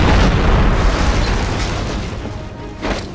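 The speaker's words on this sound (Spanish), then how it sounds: "He tirado una granada sin querer" A grenade blast in the video game Conflict Desert Storm 2 rolls out as a deep, loud boom, with a dense rumbling decay that fades over a few seconds.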